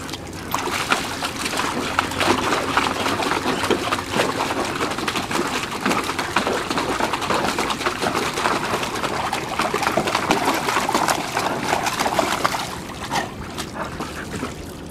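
A puppy splashes and digs in water, dunking its head and spinning: continuous splashing and sloshing, busy and close, with churning and spattering that keeps going without pause before easing slightly near the end.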